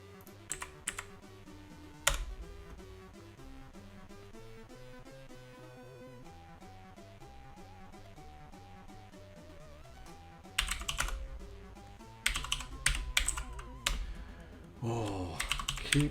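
Typing on a Raspberry Pi 400 keyboard, with short bursts of clicking keys separated by pauses and a steady tonal hum underneath, the keystrokes growing louder and denser near the end.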